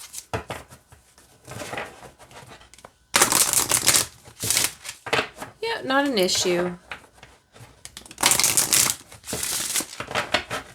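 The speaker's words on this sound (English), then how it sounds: "Alrighty, let's see how it shuffles." Bursts of oracle cards being riffled and shuffled, loud and close, coming in several rounds with a person speaking briefly in between.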